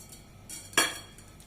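A mixing bowl is set down on a kitchen counter while baking an eggless coffee cake, giving one sharp clink near the middle amid quiet room tone.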